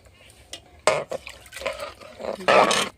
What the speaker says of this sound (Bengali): তো দেখুন জল দিয়ে দিলাম।